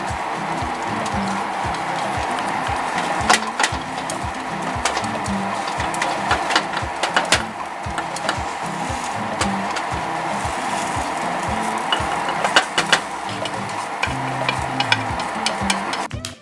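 An egg fries in a pan while being rolled, a continuous loud sizzle with repeated scraping and tapping of a utensil throughout.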